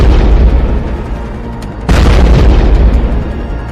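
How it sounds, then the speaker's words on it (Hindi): A drone explodes near a Kremlin dome in Moscow with a loud, sustained rumbling roar that surges again partway through, heavy and close, with no voices. "फिर उसके गुंबद के पास होता है एक बड़ा धमाका।"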